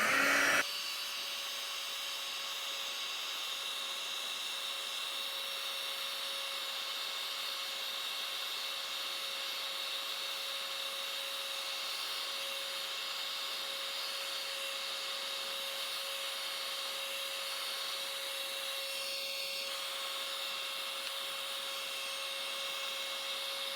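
A heat embossing tool blows a steady, even whine and airy hiss while melting embossing powder on a stamped craft piece, running unbroken at moderate level with no talking.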